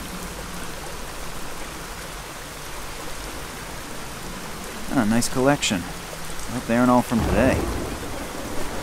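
Steady rain hisses down in the point-and-click adventure game Secret Files Tunguska, a continuous even wash of falling water under two voices talking briefly near the end.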